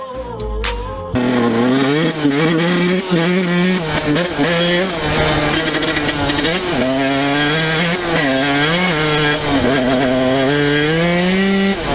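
A dirt bike engine revs loudly and close, holding a raspy buzzing drone with repeated throttle rises and dips, continuous for most of the stretch.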